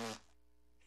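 A brief, loud cartoon fart sound effect from Family Guy, a single buzzy blast lasting a fraction of a second before fading into quiet.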